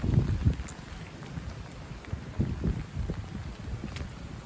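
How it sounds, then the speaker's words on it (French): A strong northwest gale gusting to about 70 km/h blows through steady rain, a low rumbling roar with surging gusts near the start and middle, mixed with the patter of falling rain. "On entend gronder le vent là."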